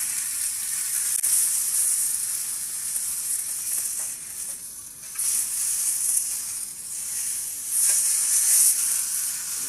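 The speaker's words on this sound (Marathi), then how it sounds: "मस्त पैकी इकडचे साईडने फ्राय झाली आहे." A large tilapia fish fries in a pan with a steady, close sizzle and hiss that swells and eases now and then, with no talking.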